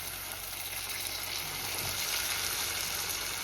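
Green bullet chili curry sizzles in a pan as water goes in, producing a steady, fairly quiet hiss of frying with a brief bubbling surge midway, no voices.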